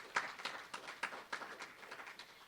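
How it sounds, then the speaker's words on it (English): Scattered hand clapping from a modest audience at a City of Bastrop event honoring the board of directors, fairly faint and uneven, individual claps popping out of a soft patter. "a round of applause for my board of directors"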